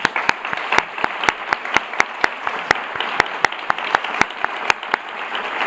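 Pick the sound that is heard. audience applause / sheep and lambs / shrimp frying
audience applause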